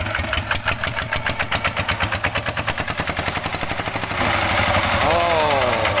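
A homemade Thai e-taen farm tractor engine idles nearby with a loud, rapid chugging beat, then its tone changes and roughens toward the end.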